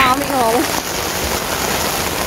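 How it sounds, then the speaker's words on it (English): Rain pours down at a beach carpark beside a ferry terminal during surf casting, a steady, close hiss of drops that continues throughout, with a person talking briefly at the start. "suddenly it turns out to be raining"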